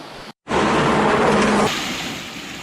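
Rain-swollen flood water, strong enough to trap farmers and farm labourers, roars in a loud, steady, broadband rush. It cuts out briefly near the start, then continues unbroken and eases slightly toward the end.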